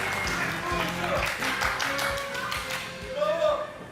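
A studio audience applauds an entrance on a Turkish TV show, a dense, continuous clapping that carries on under talking voices and swells near the end.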